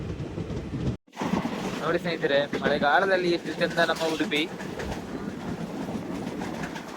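A passenger train runs along the railway through rainy coastal Udupi countryside, a steady rumble and rattle of the carriages continuing throughout, with someone speaking over the noise.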